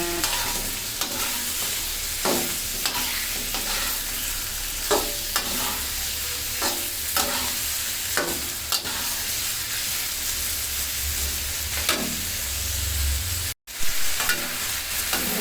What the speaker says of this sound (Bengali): দেখুন মুরগিটা ভাজা হয়ে গিয়েছে